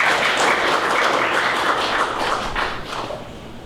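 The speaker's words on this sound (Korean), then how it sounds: "박수로 맞아주시기 바랍니다" A forum audience at the opening of an education centre claps to welcome a professor, a steady, even wash of applause throughout that eases slightly toward the end.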